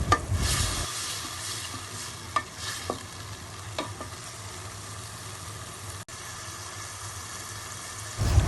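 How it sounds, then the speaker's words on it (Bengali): Fried chicken pieces are stirred and sautéed with spices in a pan, giving a continuous sizzle broken by several scraping stirs and clinks, with a louder clatter at the start and end. "তারপর মশলার সাথে মাংসর টুকরোগুলো ভালো মতো মিশিয়ে অনেকক্ষণ ধরে কষাবো"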